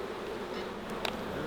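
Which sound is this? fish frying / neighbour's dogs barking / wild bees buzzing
wild bees buzzing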